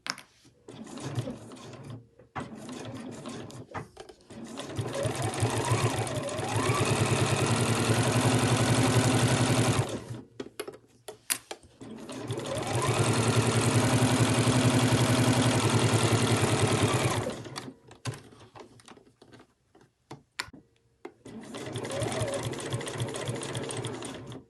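A sewing machine stitches right along the fabric edge to hold a pocket down on a machine cover, running in three long steady bursts with short pauses between.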